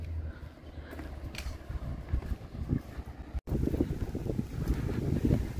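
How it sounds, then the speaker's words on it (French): Strong wind on the Camino Francés leaving Astorga, Spain, buffets the microphone in a continuous rough rumble, gusting harder after a brief dropout midway. "Il y a du vent qui s'est levé dès qu'on est sorti de la ville."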